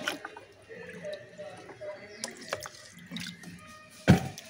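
Water is scooped out of a tank holding red swordtail fish: a string of light close drips and splashes ends in one louder slosh near the end, with speech now and then.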